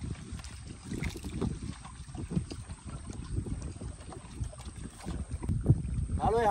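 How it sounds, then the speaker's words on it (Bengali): Wind gusts buffet the microphone outdoors during hook-and-line fishing, a steady low rumble with uneven surges throughout, fairly close and loud, with faint voices underneath. "ভালোই হাওয়া দিচ্ছে এবার আজকেও।"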